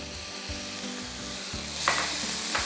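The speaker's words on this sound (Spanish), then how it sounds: "Vamos a poner la cebolla. Y así vamos a saltear" Onion sautéing in a pan, a close, continuous sizzle broken by a few scraping stirs and soft knocks of a utensil, with no voices.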